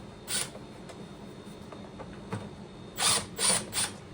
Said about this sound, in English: You're going to take your T20 and first remove the bolts.